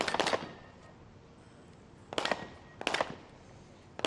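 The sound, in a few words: sniper rifle shots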